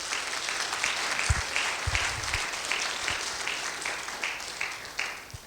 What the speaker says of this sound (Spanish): Dale ese aplauso a Cristo, mi hermano.